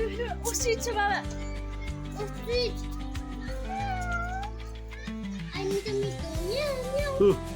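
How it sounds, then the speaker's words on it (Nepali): A jungle cat meows in a park, several drawn-out calls rising and falling over a busy background of people talking, including children, with other outdoor noise throughout. "वन बिरालो मतलब ठुलै छ"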